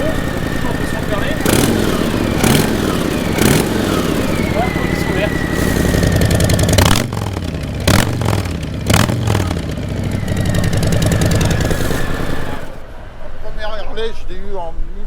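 Harley-Davidson motorcycle engine idling with a loud, lumpy clatter, blipped with several sharp revs partway through, while someone talks over it close by.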